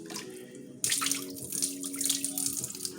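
A small amount of water splashes from a tap into a cooking pot in a home kitchen, starting abruptly and running steadily at close range with a continuous hissing pour.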